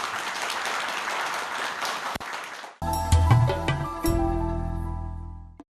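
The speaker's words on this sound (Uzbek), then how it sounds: "bunday tashabbusni guldiroz qarsaklar bilan qo'llab-quvvatlaymiz" Hearty audience applause at a literary evening on Navoi and the Naqshbandi order, a dense steady clatter of many hands lasting a couple of seconds before giving way to loud music.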